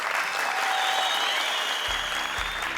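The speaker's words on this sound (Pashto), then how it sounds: "په ویاړ چک چک یې" An audience on a televised quiz show bursts into sustained, loud applause that fills the whole stretch, with no voices over it.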